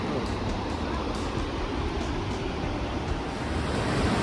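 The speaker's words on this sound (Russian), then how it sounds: "замок Лауфен, який підноситься на скелі над водоспадом" The Rhine Falls waterfall below Laufen Castle roars as a continuous, dense broadband rush heard from nearby, steady and loud throughout with no pauses.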